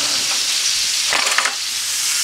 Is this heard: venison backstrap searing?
yes